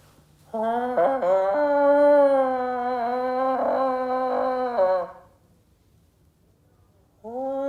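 A person imitates a wolf howl with a long, quavering, wavering voiced tone held for several seconds near the microphone, then breaks off, with a second howl starting at the end; set against frozen northern wilderness.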